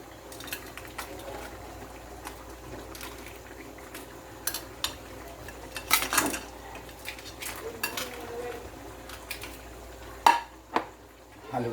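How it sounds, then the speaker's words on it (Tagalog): Crabs get stirred in a cooking pan, with scattered metallic scrapes and clanks of a utensil against the pan over a low, steady simmer, the louder knocks coming in short clusters. "Haluin natin."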